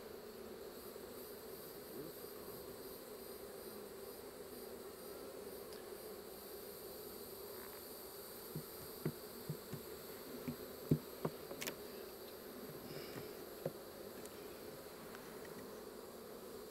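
A steady, low hum of many honey bees buzzing together in an open hive during a frame inspection, continuous and close, with a few faint clicks and knocks partway through.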